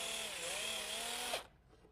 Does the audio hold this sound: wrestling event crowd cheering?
no